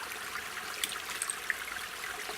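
Waste water from a half-inch ram pump flows back into a creek, a soft steady trickle and splash that runs alone.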